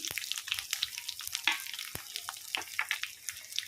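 Cumin, mustard seeds, chana dal, peanuts and dried red chillies crackle and pop in hot oil as a faint steady sizzle with scattered sharp spatters, with no talking.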